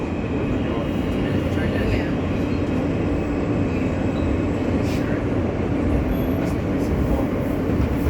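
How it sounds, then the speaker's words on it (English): A Manhattan-bound E express train on the New York City subway at the 23rd Street-Ely Avenue station gives off a steady, loud rumble and rail roar that holds throughout, with no break, and faint hiss and squeal above it. "This is a Manhattan-bound E Express train."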